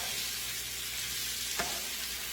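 Frozen peppers fry in a pan, giving a steady, even sizzle throughout with one brief clink or stir in the middle; no voices.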